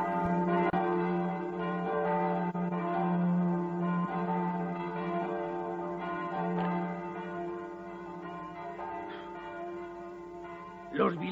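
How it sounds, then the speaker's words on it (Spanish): Church bells toll in Fellini's film Amarcord, a series of resonant bell strikes with long ringing overtones that layer and decay, fairly loud and unaccompanied by speech. "mientras que doblan las campanas de la iglesia"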